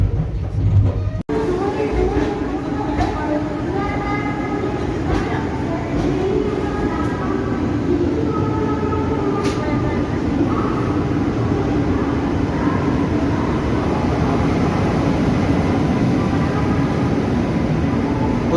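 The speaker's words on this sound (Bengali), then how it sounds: "ওই পাশে এখন যে ট্রেন ঢুকছে বন্ধুরা, সেটি হলো চেন্নাই থেকে হাওড়া করমণ্ডল এক্সপ্রেস" The Chennai–Howrah Coromandel Express pulls into a station platform with a steady, loud rolling rumble that holds throughout, while people talk nearby.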